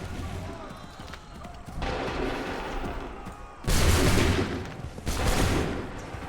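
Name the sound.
volley of musket gunfire in the video game Assassin's Creed 3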